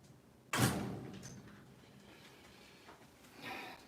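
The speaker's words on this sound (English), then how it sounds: "the cat has figured out how to knock on the screen door" A cat knocking its paws against a screen door makes one sharp, loud rattling thud followed by a fading tail, then fainter, softer taps a few seconds later, with no talking.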